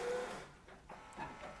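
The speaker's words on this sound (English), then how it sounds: "the printer will take one by one each sheet of paper without you having to touch anything" A Canon MAXIFY MB2720 printer draws paper sheets one by one through its document feeder while scanning, giving soft mechanical whirs and rolling hums that rise and fall, faint and close, with no voices.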